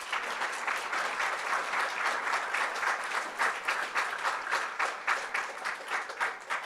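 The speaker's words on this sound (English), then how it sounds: "Let's give everybody, both of them, a round of applause" Audience applause fills a debate hall at the close of a debate, a dense, steady wash of many hands clapping, loud and sustained throughout without talk.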